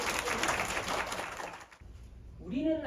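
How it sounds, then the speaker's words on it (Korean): Audience applause at a Buddhist Pure Land dharma lecture: a dense burst of clapping that holds for about a second and a half and then fades, followed by a voice beginning to speak. "쳐주세요. 박수."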